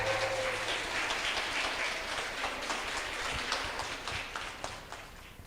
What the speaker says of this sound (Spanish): Recibimos con un fuerte aplauso a Florencia Iacarino.